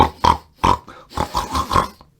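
A voice imitates pigs, giving a run of about six rough, throaty grunts in uneven bursts, loud and close, with no other sound around them.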